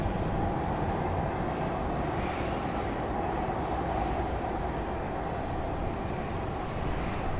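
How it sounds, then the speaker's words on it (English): An Embraer E175 airliner departing Raleigh-Durham airport, a sustained broad jet roar that swells slightly and holds steady, heard from a distance outdoors with no talk. "All 3 Airlines E175s are going to leave back to back."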